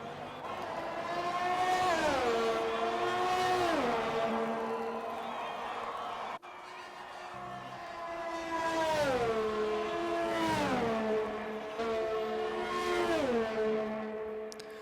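Open-wheel F1 2020 race car engines from a video game lap at Spa-Francorchamps, loud and continuous, with two cars whining up through the gears and dropping pitch on each shift, repeating in several rising sweeps.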